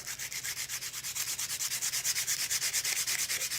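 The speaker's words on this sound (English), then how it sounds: "Grab ourselves a fresh piece of sandpaper here." Sandpaper rubbed back and forth over a lathe-turned wooden wand, a steady rhythmic rasp of quick even strokes, close and fairly loud with no voices.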